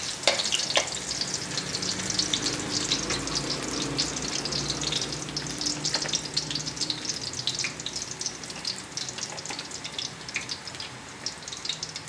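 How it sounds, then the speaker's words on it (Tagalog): Garlic sautéing in a hot pan for pakbet, a loud continuous oily sizzle with crackling pops throughout, steady and close with no talking. "Gisa-gisa na tayo ng ating gulay. Unahin natin yung bawang."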